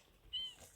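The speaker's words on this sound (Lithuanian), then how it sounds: "Aš čia girdėjau katiną." A single short cat meow from the video game Minecraft, brief and fairly faint over quiet background.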